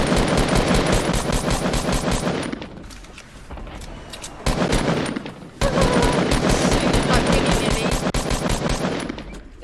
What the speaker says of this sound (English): I don't even know if I'm shooting the right person.